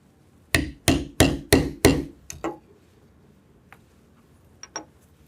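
Five sharp, evenly spaced hammer strikes set a brass rivet in leather, followed by two lighter taps and a few faint knocks in a quiet room.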